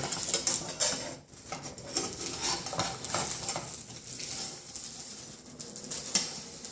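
Bacon and eggs fry in a pan, sizzling and crackling steadily, with a spatula scraping and stirring close by and no voices.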